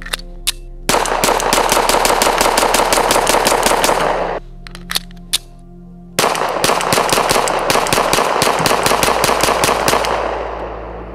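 Rapid strings of pistol shots from an Icarus P365 XL fitted with a PMM compensator and barrel, two long fast bursts of loud, sharp reports separated by a short pause, with no talking.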